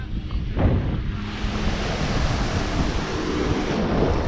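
A broad, steady wash of Pacific Ocean surf on a beach near Hoi An, Vietnam rolls on, with rushing noise and some wind buffeting the microphone.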